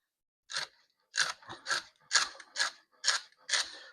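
Knife chopping vegetables on a cutting board for shrimp étouffée, seven crisp crunchy cuts spaced about half a second apart, close and fairly quiet with no voices.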